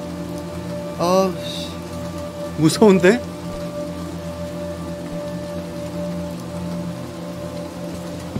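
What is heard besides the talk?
rain falling outside in video game Little Nightmares II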